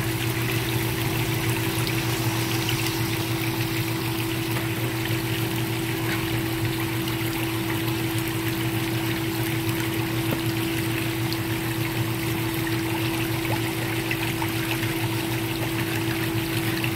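Water runs continuously through a mining wash process, a steady rushing stream over a constant mechanical hum from the equipment, unbroken and fairly loud with no talk.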